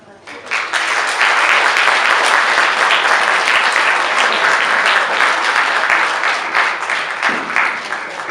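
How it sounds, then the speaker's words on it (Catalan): Sustained audience applause at a retirees' choir concert closing a seniors' week in Sollana, dense steady clapping filling the room for several seconds before tapering slightly. "un aplaudiment per ells"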